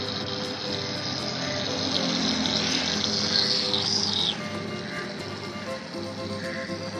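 A small new submersible motor pump pushes water out, giving a steady whir over continuous splashing and flowing water. The sound is close and fairly loud, with faint background voices.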